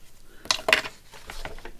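Scissors snip through paper ephemera for a fabric and lace journal: two crisp, close cuts, then a few lighter snips trailing off.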